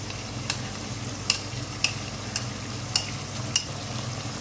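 Mutton masala with ground onion being stirred and fried in a pan, a steady low sizzle with sharp scraping stirs landing every half second or so, close and moderately loud, no voices.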